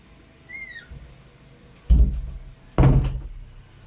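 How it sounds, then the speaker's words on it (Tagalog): Doors of a house are shut one after another: two heavy, close thuds about a second apart, each with a short rattling tail, preceded by a faint high chirp. "Sarado natin yung mga pintuan dito."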